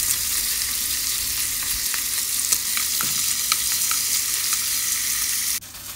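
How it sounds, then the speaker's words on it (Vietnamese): Marinated meat sizzles and hisses steadily in a hot pan as it is stir-fried, with occasional scraping and clinks of the utensil, loud and close, no talking. "Mình xào qua lên cho nó căng cái thịt."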